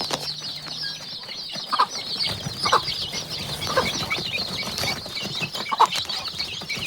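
Young chicks pecking at homemade feed in a cage give soft, scattered clucks and peeps, with light taps and rustling over a constant hiss of background noise.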